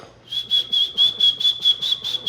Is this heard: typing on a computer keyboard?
no